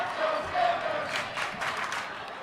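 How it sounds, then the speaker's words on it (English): Home crowd at a Cohasset boys basketball tournament semifinal against Bristol Plymouth, raising a steady noisy cheer and shouts in a gym, with a few louder bursts of yelling over continuous crowd murmur. "Cohasset crowd getting a little bit more into this game as the Skippers turn it over."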